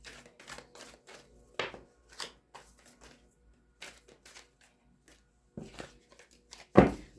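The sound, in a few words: tarot cards being shuffled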